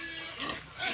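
Pig grunting on a farm near where chickens roam, a short rough snort heard close and moderately loud against outdoor background noise.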